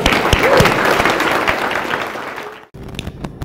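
Workshop audience applauds with dense, near clapping that holds steadily for a couple of seconds, then cuts off abruptly before a few scattered trailing claps.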